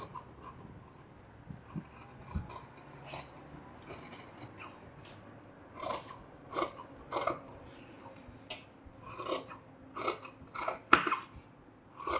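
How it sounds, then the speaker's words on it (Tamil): Scissors cut blouse fabric along a marked line, giving quiet, irregular crisp snips and rustles that grow more frequent in the second half, with no talking. "இதை வந்து மார்க்கில் வெட்டுறேன்"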